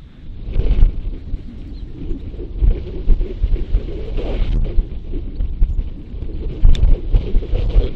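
Strong wind on a golf course buffets the microphone in loud low rumbling gusts that rise and fall over several seconds, with no talking.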